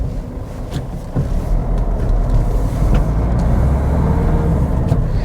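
A cheap used Mazda 2 driving with a clunky steering, heard as steady engine and road rumble from inside the cabin with scattered faint knocks and rattles, close and continuous.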